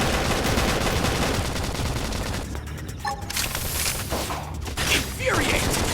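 Sustained gunfire rattles in Xenoblade Chronicles X combat, a dense continuous volley of shots mixed with game effects and brief voices.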